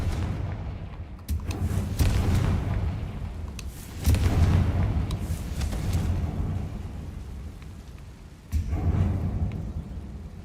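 Confringo fire spells cast in Hogwarts Legacy land as three separate booming blasts, each a sudden burst that rumbles and fades before the next.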